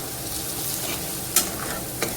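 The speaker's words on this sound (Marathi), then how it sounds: "या मसाल्यांना छान परतून घेते आहे कांदा टोमॅटोसोबत" Red chilli powder, coriander powder and garam masala sauté with onion and tomato in a pan for Maharashtrian stuffed brinjal, giving a steady sizzle with a few sharp scrapes and clinks as the spatula stirs.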